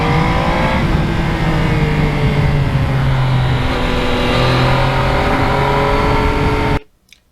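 A 2020 Yamaha MT-09 motorcycle on a ride over salty roads runs steadily and loud, its engine note dipping and climbing at a few points as the quick shifter clicks through the gears, then cutting out abruptly at the end.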